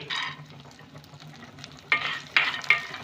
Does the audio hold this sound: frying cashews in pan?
yes